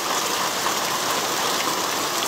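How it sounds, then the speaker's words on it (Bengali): Heavy rain pours down in Hailakandi district, Assam, a dense, loud, unbroken hiss of drops striking surfaces close by, with no voices. "আজকে খুব বৃষ্টি দিচ্ছে"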